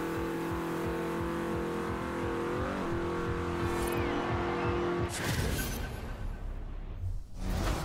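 A classic rally car races in Forza Horizon 4, its engine revving loudly and shifting gears close up, with tire noise and gravelly rushing as it accelerates, no speech over it.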